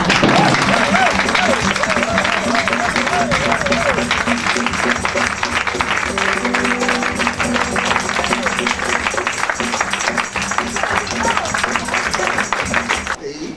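An audience cheers and applauds in welcome, dense continuous clapping and crowd noise throughout, with voices rising over it.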